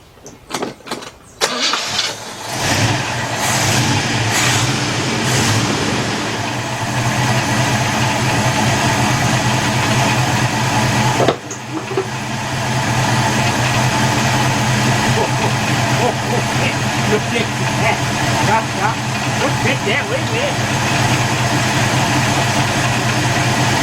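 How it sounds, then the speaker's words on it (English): A 1977 Buick LeSabre with a 350 engine cranks over with a few stuttering turns, catches, and settles into a steady, loud, close idle that runs on, briefly interrupted by a bump, while someone talks. "let's start this up."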